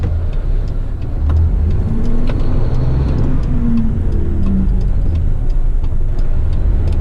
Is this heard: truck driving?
yes